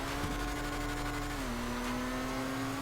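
The Annis S80RR race car's engine in GTA 5 Online hums at a steady, smooth pitch, dipping slightly as the revs ease, loud and close with a faint whine on top.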